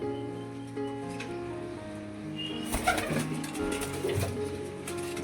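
Pigeons in a Punjabi loft, a bloodline flock of eight or nine birds, give soft low cooing amid a steady murmur of the loft, with a few brief rustles and wing flutters in the middle.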